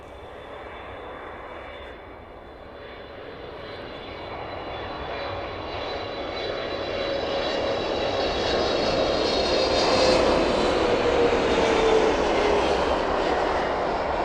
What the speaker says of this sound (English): Illuminate that aircraft as it continues descending in towards us.